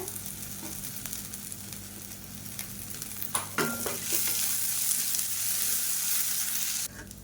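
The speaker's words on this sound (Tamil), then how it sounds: "இப்போ வெங்காயம் நல்லா வதங்கிட்டு இருக்கு" Chopped onions and drumstick leaves sautéing in a pan, a steady close sizzle with occasional stirring scrapes and a brief louder clatter partway through, no talking.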